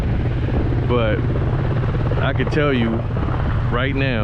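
A helicopter passing overhead with a loud, steady rotor drone and whine, someone talking over it close by.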